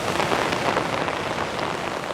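Heavy, steady rain pours down hard during a downpour in Ximending, Taipei, a dense continuous hiss of drops hitting surfaces with no letup, close and fairly loud throughout, with no voices.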